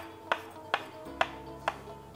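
A kitchen knife slices through potatoes for a spicy soy-sauce potato dish, making four crisp, evenly spaced chops that strike a board close by, with no talking.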